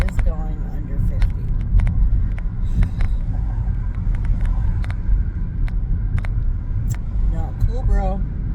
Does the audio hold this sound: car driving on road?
yes